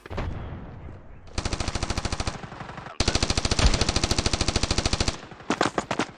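Rapid automatic gunfire from the mobile game Standoff 2 in long sustained bursts, loud and close, with a brief pause between volleys, followed by a few shorter bursts at the end.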